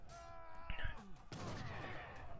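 Gunfire from an Age of Empires III battle, with short bursts of shots and game effects. A caster talks over it throughout.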